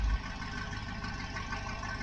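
A Dodge 318 V8 idles steadily right after its first start in ten years, with a low, even rumble and a slight lopey pulse, close and continuous with no talk.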